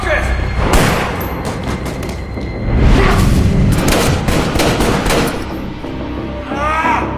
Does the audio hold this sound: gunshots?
yes